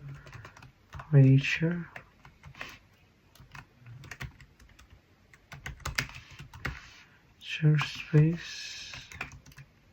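A computer keyboard is typed steadily as code is entered for an ESP32 board with an OLED display and DHT11 sensor. The clicking carries on through brief pauses in a man's speech.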